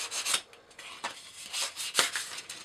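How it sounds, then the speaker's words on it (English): Scratching and scraping paint off the edges of a scale model truck body to expose lower colors for a patina finish: short irregular rasping strokes, close and fairly quiet, with no talking. "We'll put some deeper scratches in here, try to get some the lower colors out on the edges."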